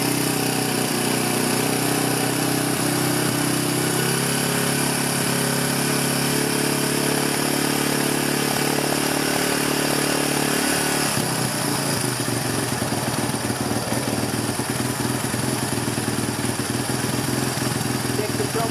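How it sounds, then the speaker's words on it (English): A Suzuki DR350SE dirt bike engine, freshly carburetor-rebuilt, starts on the first kick and runs loud and steady, its pitch rising with revs, then settles into a rougher, choppier idle partway through. "now the bike runs and revs, which you'll see right now."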